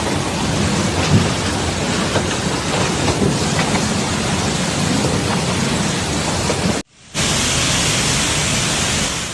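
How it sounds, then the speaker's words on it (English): Heavy rain pours steadily during a thunderstorm in Pavia, Italy, a dense, loud and continuous wash broken only by a brief cut partway through before the downpour resumes. "A powerful storm has struck several areas of Pavia"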